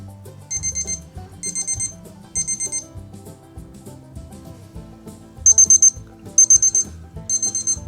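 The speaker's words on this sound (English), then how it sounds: "You can set the alarm and you stick it and the alarm goes off." Rapid electronic beeping from an instant-read probe thermometer alarm in bursts of four, repeating several times with short pauses, loud and close, with clattering handling noises underneath.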